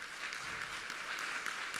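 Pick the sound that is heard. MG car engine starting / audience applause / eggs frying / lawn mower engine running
audience applause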